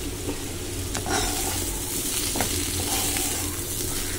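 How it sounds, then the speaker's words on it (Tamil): Bitter gourd slices fry in a shallow layer of oil in a pan, giving a steady, dense sizzle throughout with occasional scraping stirs and light clinks. Nobody speaks. "ஃப்ரைலாம் பண்ணும்போது நல்லா அப்படியே ஓரத்தில் கொஞ்சோண்டு நான் ஆயில் ஸ்ப்ரெட் பண்ணுறேன்."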